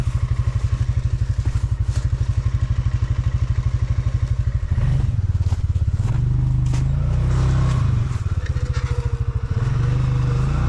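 A Stels Leopard ATV engine runs close and loud in a forest, a steady rapid throb that swells into revving with clattering and scraping around it.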